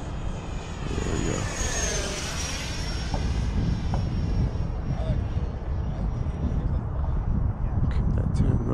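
An FMS F/A-18F Super Hornet model jet flies overhead, its electric ducted-fan engine giving a continuous rushing whine that sweeps in pitch as it passes, mixed with steady wind noise outdoors.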